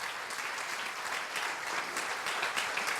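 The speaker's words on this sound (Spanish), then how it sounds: "Dale un fuerte aplauso al Señor." Applause from a church congregation, sustained loud clapping from many people that continues evenly throughout.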